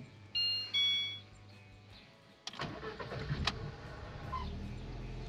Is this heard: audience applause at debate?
no